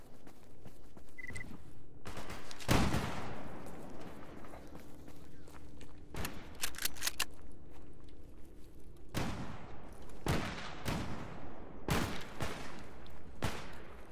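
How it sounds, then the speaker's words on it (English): Mercenaries in S.T.A.L.K.E.R. GAMMA fire at the player out of foggy surroundings: scattered, sharp gunshot cracks and short bursts at moderate distance, interleaved with footsteps and movement noise. "I can't see whoever is shooting at me at all."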